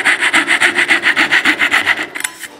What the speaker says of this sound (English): Piercing saw, drop it down my saw kerf just above my shoulder line, pop out that bit of waste